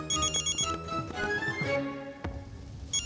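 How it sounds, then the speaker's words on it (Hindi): A phone ringtone plays a bright electronic melody in repeating bursts, close and clear, with a short pause before it starts again. "ये दक्कू भाई क्यों फोन कर रहे हैं?"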